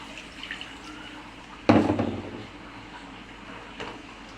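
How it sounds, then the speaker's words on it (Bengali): A splash of water goes into tilapia curry being cooked, a sudden pour that splashes loudly, then fades into quiet simmering; a faint second splash follows later. "এরপরে একটু পরিমাণ মতো পানি দিয়ে দিচ্ছি"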